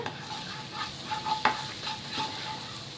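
A spoon stirs spice paste frying in a pan for sweet spicy cashews, giving soft scraping strokes over a steady sizzle, close and alone.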